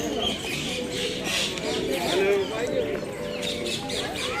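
Doves or pigeons coo softly in caged zoo enclosures, their low calls repeating amid a continuous outdoor murmur with people talking nearby.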